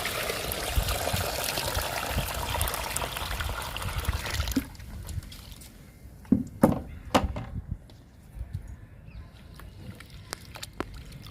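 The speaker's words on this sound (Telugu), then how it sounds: "ఇప్పుడు వాటర్ పోస్తున్నా." Water poured into a container holding papaya and fruit peels to make a liquid for fruit plants; a steady pouring stream runs for the first few seconds, then stops, followed by scattered knocks and trickles.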